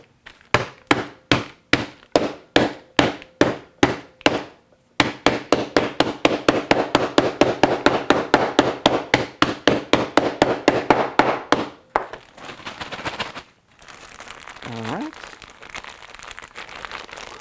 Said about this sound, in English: I'm going to smash it with a hammer.